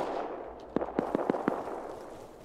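Five quick sharp gunshots fire in a rapid burst over a steady background hiss, fairly loud and punchy, typical of video game gunfire.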